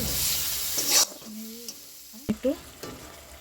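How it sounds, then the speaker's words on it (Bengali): A spice paste for egg curry with yogurt is stirred in a pan: a brief sizzle, then a few scraping strokes and clacks of the spoon, close and fairly quiet, with no talk. "মশলাটাকে এখন ভালো করে নাড়াচাড়া করে"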